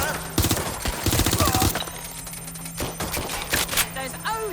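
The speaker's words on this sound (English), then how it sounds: "Taking fire." Gunfire in the video game Watch Dogs: Legion, loud bursts of rapid automatic shots in clusters over a steady hum, with speech and electronic game sounds mixed in.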